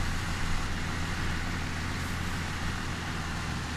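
A tractor engine in Farming Simulator 2015 roars steadily at full throttle with diff lock and four-wheel drive engaged, a loud continuous drone with no pauses.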